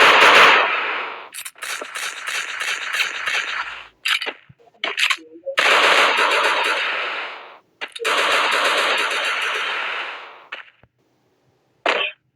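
Rapid automatic gunfire bursts in a shooting video game, loud and close, broken by short pauses and a few single shots near the end.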